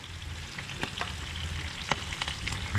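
Squid rings frying in a hot pan, a steady close sizzle with scattered crackles and pops running throughout, no voices over it.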